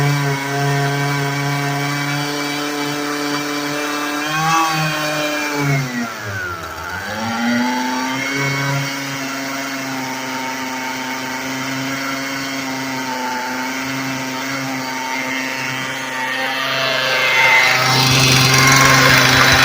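Husqvarna string trimmer engine running roughly on 24-year-old kerosene with the air cleaner removed, a loud, continuous buzzing two-stroke whine that dips and wavers unevenly before rising to a higher pitch near the end.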